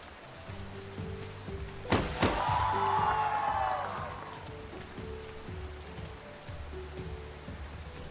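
Steady rain patters through a festival scene in the Outbound video game, a soft continuous hiss under faint tonal game music, broken by one sharp hit and a brief swelling whoosh.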